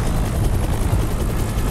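Helicopter in the video game Predator: Hunting Grounds, a steady low rumbling rotor and engine drone, loud and continuous over the whole short stretch.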